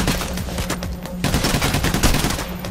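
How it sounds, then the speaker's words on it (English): Rapid gunfire rattles in Payday The Heist, dense bursts of close shots with short gaps, fairly loud throughout. "I shot my teammate bastard."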